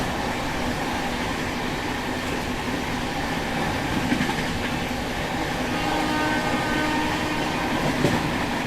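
Khajuraho Express running at about 130 km/h, a steady loud rushing roar of wheels and carriage with faint rhythmic clatter, heard from onboard without talk.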